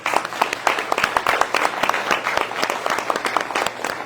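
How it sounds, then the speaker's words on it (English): Loud, full applause from an audience at a State of the City address, many hands clapping in a dense, continuous wash with distinct individual claps, no talking over it. "I would just like to give them a round of applause for a minute"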